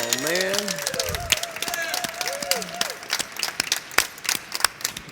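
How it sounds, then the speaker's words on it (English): An audience at an EarthX event applauds. A voice talks excitedly at first, then scattered, crisp hand claps build into sparse applause that carries on alone to the end. "I want to give this guy applause"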